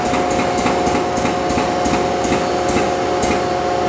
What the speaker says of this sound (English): The booster pump comes in.